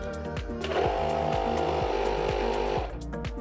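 Pump running on an electric unicycle tire, a steady close mechanical whirring hum with a fast rhythmic pulsing beat, starting and stopping within a few seconds, no talk.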